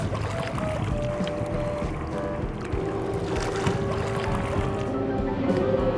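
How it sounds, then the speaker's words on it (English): A motorboat with a hydrofoil roars steadily as the hull runs over water on plane, with wind rushing past the microphone and the engine tone rising slightly. "Boat gets on plane very easy, very smooth."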